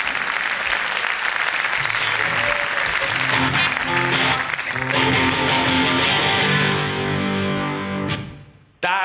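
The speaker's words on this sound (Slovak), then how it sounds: "tam môžete zatleskať, kedy chcete" Concert audience applause at a New Year's Eve show, a dense, steady roar of clapping that fills the whole stretch, with music tones emerging underneath before it fades out at the end.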